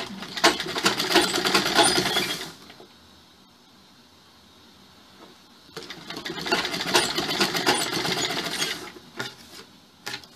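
Sewing machine stitching a blouse, two close bursts of rapid mechanical whirring and clatter separated by a few seconds of quiet, with no talking.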